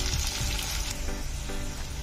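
Onions fry in hot oil for biryani, a soft, continuous sizzle heard close up, with a few faint stirring scrapes in the pan.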